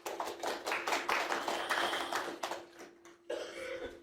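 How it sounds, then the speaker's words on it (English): An audience claps for itself in a seminar hall, a run of quick, close, irregular hand claps that thins out, pauses, and picks up again. "The clapping for ourselves."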